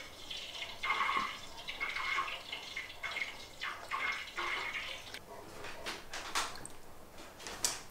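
Water poured into a measuring container while making soap from animal fat, with a thin trickling stream, intermittent drips and small clinks of containers nearby, fairly quiet and close.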